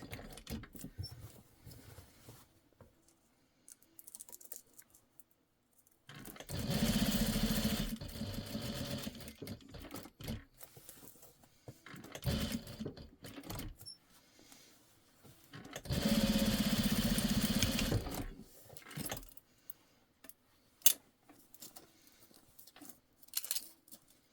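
A sewing machine stitching fabric pieces for a refillable catnip mat runs in two long, steady bursts of rapid whirring, separated by quieter handling of the cloth and small clicks.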